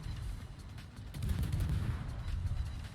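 Warship guns fire in a naval battle video game during a ranked match, a dense, rumbling barrage of low booms and crackling blasts that swells and continues throughout, with no speech.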